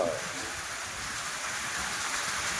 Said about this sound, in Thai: ตอนนี้ ฝนตกนะฮะ